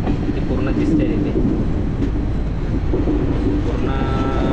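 An Indian Railway long-distance train rounds a curve on a Mumbai to Kolkata run, giving a loud, continuous rumble of wheels and carriages with faint squeals over it, heard close from on board.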